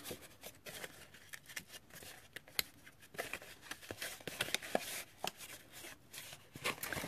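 Paper being creased and folded along score lines to form a Valentine treat box, a run of close, crisp crackles and soft taps with no talking.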